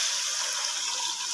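Three glasses of water pour into soaked rice inside a pressure cooker for matar pulao, a steady hissing pour lasting the whole short moment, close and moderately quiet with no talk.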